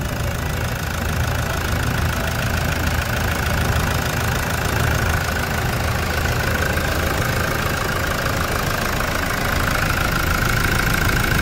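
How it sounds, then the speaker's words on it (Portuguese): A Toyota Hilux single-cab pickup engine idles steadily with a constant, slightly knocking rumble, close and fairly loud, no voices. "olha o barulho do motor"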